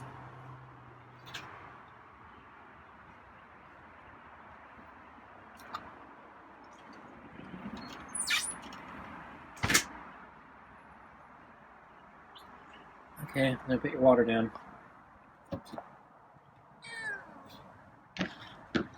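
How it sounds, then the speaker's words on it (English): Scruffy, a feral cat, lets out a few short meows outdoors, scattered between quiet stretches, while a person speaks softly nearby. "The meows."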